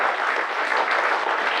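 Dense, steady applause from an audience at a historical society gathering, marking an award of merit won this year, sustained and even throughout with no talk over it.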